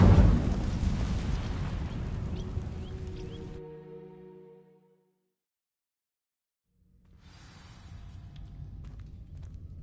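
A fire spell ignites dry vines in a Harry Potter video game, a loud roaring whoosh of flame that crackles for a few seconds and dies into silence before quieter game ambience returns.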